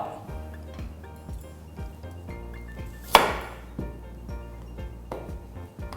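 A knife chops a carrot on a cutting board in steady, close, woody knocks, with one sharper louder cut near the middle and a low hum underneath.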